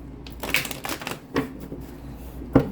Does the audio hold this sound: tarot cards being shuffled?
yes